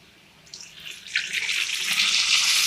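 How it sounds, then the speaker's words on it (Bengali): Measured water is poured into a pot of uncooked rice for pulao, giving a steady, close splashing stream that grows fuller and louder as the pour goes on. "এবার এই জলটা আমি চালের মধ্যে দিয়ে দেব।"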